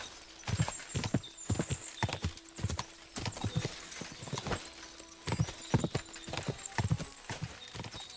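Horse hooves clip-clop in Kingdom Come: Deliverance 2, a steady run of loud, close hoofbeats repeating rhythmically through the stretch, with a brief whinny-like cry mixed in and no talking.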